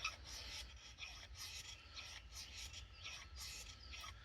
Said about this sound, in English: using the spine of my knife, I'll scrape downwards, get some of the ferrocerium in there.